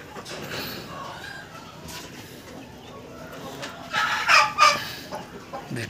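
Aseel hens cluck and chatter at a poultry sale amid steady outdoor crowd noise, the calls growing louder and busier toward the end with faint talk in the background.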